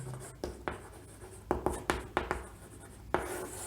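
Writing strokes during a biology lesson on protoplasm composition: a series of short, crisp scratching bursts in irregular rhythm, close and fairly quiet, with no talking.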